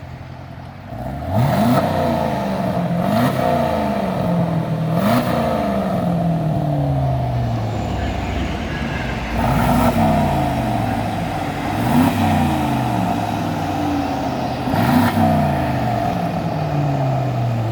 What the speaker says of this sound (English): Can you open up the exhaust and rev it a little bit?